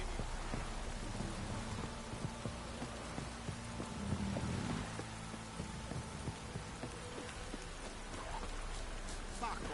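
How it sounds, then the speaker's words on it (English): Heavy rain pours continuously in a dense, steady hiss, with low rumbles beneath it and no voices, in the video game The Witcher 3. "This downpour's a bastard."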